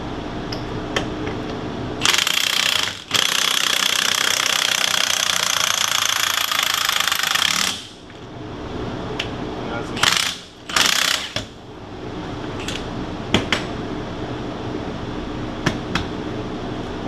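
An impact wrench hammering at the lug nuts of a tractor tire, loud bursts of rattling, ratcheting clatter with brief pauses between them.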